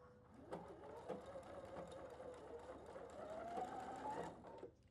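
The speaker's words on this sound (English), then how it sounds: "I'm going to stitch that super quickly." A sewing machine runs steadily for about five seconds, stitching a quilt block seam in a flowering-block sew-along, its motor whirring with a busy mechanical chatter and no voices over it.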